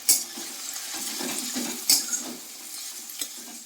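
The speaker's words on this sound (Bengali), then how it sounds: "পেঁয়াজটা একটু লাল লাল করে প্রথমে ভেজে নেব" Onions fry in oil in a pan for Bengali-style ghugni, a steady soft sizzle with a few louder scrapes and knocks as they are stirred, heard close with no speech.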